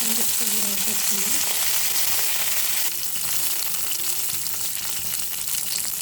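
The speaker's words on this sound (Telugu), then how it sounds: "ఈ కరివేపాకు అనేది కొంచెం వేగాలి" Mustard seeds, cumin, curry leaves and green chillies fry in hot oil in a pan, giving a loud, continuous crackling sizzle that carries on steadily throughout.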